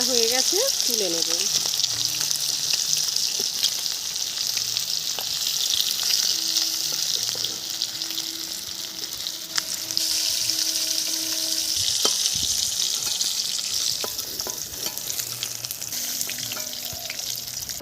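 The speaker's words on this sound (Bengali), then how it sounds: "মাছ ভাজা তুলে নিয়েছি" Rohu fish sizzles steadily in hot oil in a kadai, a dense, loud frying hiss running the whole time, with occasional clinks of a utensil and faint background sounds; no one talks.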